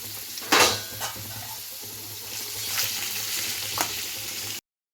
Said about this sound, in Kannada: ಎಣ್ಣೆ ಕಾದ ನಂತರ ನಾವು ಕಟ್ ಮಾಡ್ಕೊಂಡಿರೋ ನಮ್ಮ ಫೇವ್ರೆಟ್ ನಂದಿನಿ ಪನ್ನೀರ್ನ ಹಾಕಿ ಸ್ವಲ್ಪ ರೋಸ್ಟ್ ಮಾಡ್ಕೋತಾ ಇದೀವಿ.